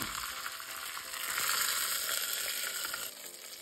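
Dried red chillies and curry leaves sizzle steadily in hot oil for an aloo matar curry, a bright continuous crackle that swells slightly midway and then eases, close and without voices.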